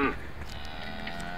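A cow moos in a Polish radio play, a brief low bellow carrying under the scene's background.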